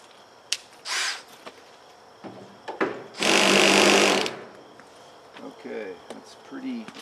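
A power drill or driver backs out the screws holding a trailer LED rear brake light, with a short whir and then a longer, louder buzzing run, surrounded by clicks and handling noises.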